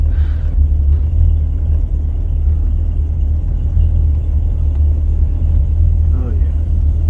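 1947 Ford Deluxe cruising at 60 mph with two windows down, a constant low engine and road rumble mixed with wind roar, a voice talking over it.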